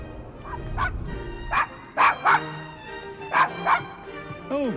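A dog in Assassin's Creed Syndicate barks in several sharp, separate bursts over a steady game soundscape of background music and ambience, ending with a short rising whine.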